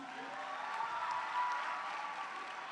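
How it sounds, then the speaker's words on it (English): A learners' audience at a winter school programme claps together in one steady, moderately distant round of applause that lasts the whole stretch with no talk. "Please give yourself a round of applause"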